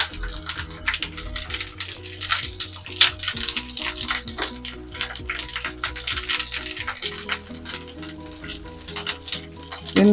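Curry leaves and spices sizzle in hot oil as tempering for an Andhra sorrel leaf and bottle gourd curry, a steady crackling fry running throughout under background music.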